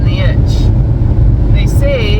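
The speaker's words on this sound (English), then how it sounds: "Oh, this feels nice driving my car." A Hyundai Tucson SUV, converted into a car camper and overheating from an antifreeze leak, is driven along. A steady, close cabin road rumble persists throughout, with a faint thin whine now and then.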